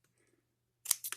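Scissors snipping off the roots of a Red Velvet philodendron during repotting, a couple of quick crisp cuts close by after near silence.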